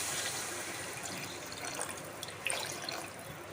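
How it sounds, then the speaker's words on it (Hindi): Water pours steadily into a pot of potatoes and spinach cooked with desi ghee, a continuous close splashing rush with faint drips and no talk. "अब इसमें पानी जो है वो ऐड कर दें ताकि ये गल जाए"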